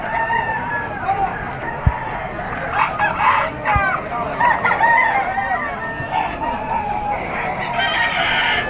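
Roosters crow repeatedly at a busy chicken market in Malabon, with several overlapping calls and clucks heard close by under steady crowd chatter and people talking.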